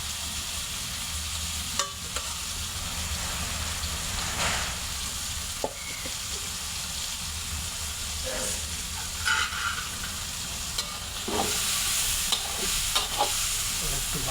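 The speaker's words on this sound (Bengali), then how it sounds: "ভালো ভাজা করে নিচ্ছি" Chicken pieces frying in oil in a pan while being stirred, with a steady close sizzle broken by scraping and clattering strokes of the spatula throughout.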